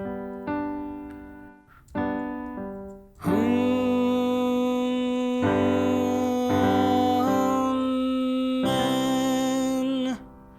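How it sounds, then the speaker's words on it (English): An Amen cadence on an instrument: a sustained passage of held chords, opening with a few short phrases, then long sustained harmonies that shift and resolve to a final chord. "It's called the Amen cadence"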